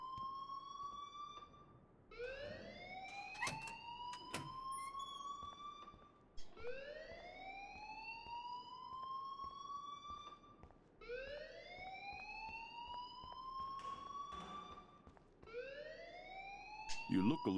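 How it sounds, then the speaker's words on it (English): A loud, steady alarm in the video game Life Is Strange Remastered, repeating rising whooping sweeps about every four seconds over a background hum. "please turn off that alarm since that's your job"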